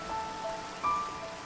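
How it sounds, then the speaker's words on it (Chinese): Heavy rain in Minecraft falls as a steady, even hiss of drops, with a short louder swell near the end and no voices. "在这个大雨天"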